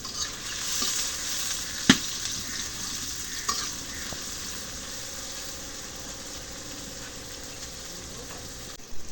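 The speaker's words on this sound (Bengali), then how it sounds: "পেঁয়াজটা এই যে তেল দিয়ে একটু ঘামায় নেই তেল দিয়ে ভেজে নেই" Onions frying in oil in a home kitchen, a faint steady sizzle with one sharp clink early and a few light utensil taps, no talking.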